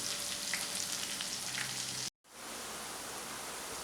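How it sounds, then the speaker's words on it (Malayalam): Chicken 65 deep-frying in oil over a medium flame gives a steady, fine bubbling hiss, briefly cut off by a short silence before the frying noise resumes, with no one speaking. "അല്ലെങ്കിൽ ഇതുപോലെ അടുത്ത ബാച്ചും വറുത്തെടുക്കണം"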